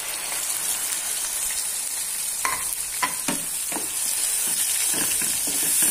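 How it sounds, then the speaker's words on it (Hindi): Gravy masala with crushed kasuri methi fries in hot oil for masoor dal bhapori, a dense crackling sizzle broken by several scraping stir strokes near the middle, close and without speech. "ये जो मैंने ग्रेवी के लिए मसाला तैयार किया था वो भी मैं इसके अंदर ऐड कर दूंगी"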